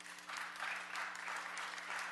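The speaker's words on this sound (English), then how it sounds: "We should keep the applause down" Steady applause from an audience at a city council special meeting, a dense wash of clapping holding at a moderate level throughout with no talk over it.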